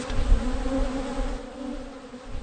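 Honeybees buzz steadily at close range, a dense continuous drone that fades slightly toward the end, with no voices present.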